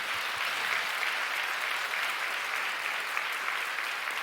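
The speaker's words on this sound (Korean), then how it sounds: "우리 같이 우리 그분들 위해서 박수 한번 쳤으면 좋겠는데요." A church congregation claps together for pastors' wives, a broad, steady roar of many hands that stays even and sustained from start to finish.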